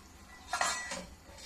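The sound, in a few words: covering the cooking pot with a lid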